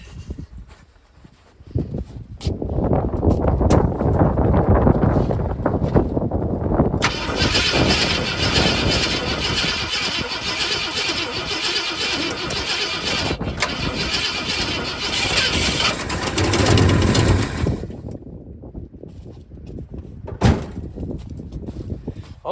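A 1969 Ford F100 pickup running off its original fuel tank cranks and catches, then settles into a loud, steady, rough idle close by, followed by a door clunk and the engine cutting off.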